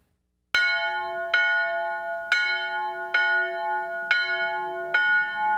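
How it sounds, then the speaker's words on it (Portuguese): Church bells of the Nossa Senhora da Piedade basilica ring out in six clear, evenly spaced strikes, each ringing on with long resonant overtones, loud and alone with no voices. "A melodia que ecoa dos sinos é uma arte."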